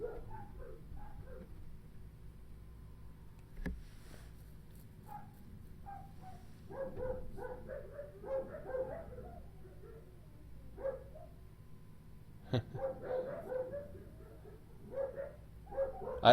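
Dogs at home, stirred up by cats, bark in scattered short bursts from a little distance, with quiet gaps between the volleys.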